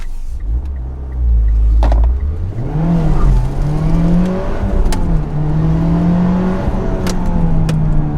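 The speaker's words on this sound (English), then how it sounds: "Had to really get the revs up." A 2015 Mitsubishi Evo X engine revs hard while driving, its loud rising drone climbing steadily and holding high, with a couple of brief gear-change dips along the way and no talking.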